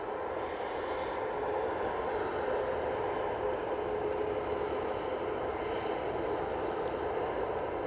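An airliner's engines roar steadily at Manchester Airport, a broad, sustained jet rumble that holds at an even, fairly loud level throughout with no pauses.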